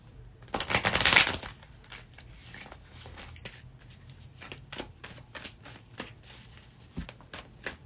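Zodiac cards are shuffled by hand, opening with a loud riffling burst followed by a string of lighter card flicks and taps, close and with no voice.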